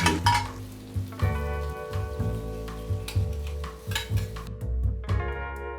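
Hokkien Mee stir-fried in a wok with ladles of stock, a steady wet sizzle with repeated scraping and stirring strokes, close and loud, under a low steady hum and no talk.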